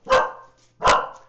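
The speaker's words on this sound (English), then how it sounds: "sorry about the barking" Two loud, close dog barks about three quarters of a second apart, each sharp and full, with quiet gaps in between.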